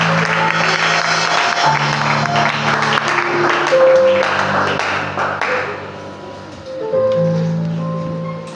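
A church congregation applauds the Lord in a dense, sustained burst of clapping, heard up close with sustained tones beneath it that rise and fade over several seconds before the applause trails off.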